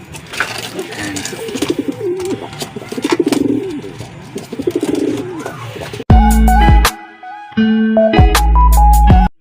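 Racing pigeons coo close by in soft, repeated throaty rolls over scattered rustling, then loud electronic tones abruptly take over.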